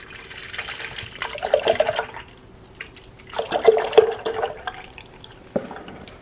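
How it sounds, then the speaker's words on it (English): Organic whole milk pours into a stainless steel pot in two bursts, a splashing, gurgling stream with a quieter pause between them and a small clink near the end. "I'm just going to pour the milk into the pot"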